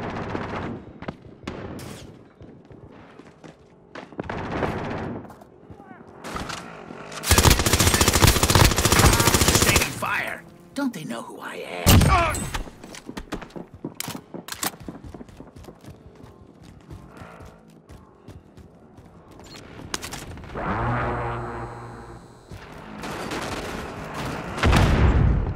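Automatic gunfire bursts in the Call of Duty: Modern Warfare video game, loud sustained volleys and scattered shots over vehicle and combat noise, with no voices.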